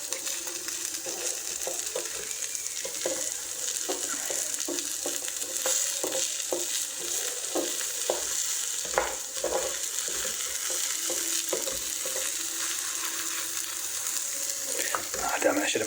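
Eggs and vegetables frying in a pan over medium heat, a steady soft sizzle with light stirring and scraping clicks throughout, no talk.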